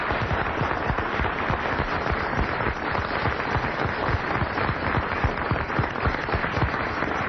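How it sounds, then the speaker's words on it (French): Sustained audience applause in tribute to the late author Frédéric Dard, a dense even wash of many hands clapping, steady and loud for several seconds with no voices over it. "le cher Frédéric Dard, que nous allons applaudir une dernière fois"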